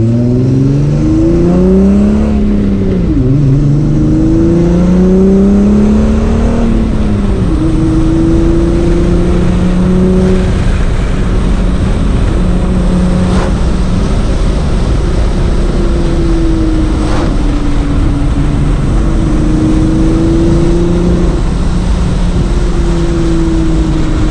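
A modified MK3 Volkswagen Jetta fitted with H&R front and rear sway bars and Nankang NS2R tires, engine droning loud and close from inside the car as it accelerates and shifts through gears on a test drive.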